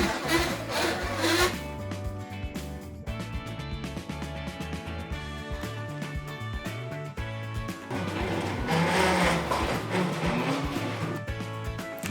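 A Silhouette cutting machine slices heat transfer vinyl with a continuous mechanical whir and rhythmic scratchy rasping from the moving carriage, close and steady throughout, with no talking.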